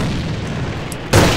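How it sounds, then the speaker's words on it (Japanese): A grenade blast in the online shooter AVA, a single loud, close boom that erupts suddenly after a stretch of low background game noise. "手榴弾投擲"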